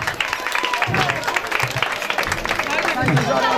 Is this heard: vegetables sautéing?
no